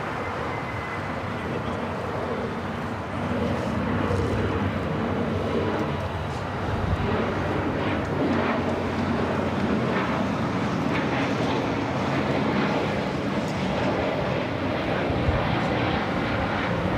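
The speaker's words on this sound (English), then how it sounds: "next, Viva Aerobus, flight 511, heading to Guadalajara. It's an A320 Neo." An Airbus A320neo airliner operated by Viva Aerobus at Los Angeles International Airport produces a steady, loud broadband jet roar that holds throughout, with faint voices in the background.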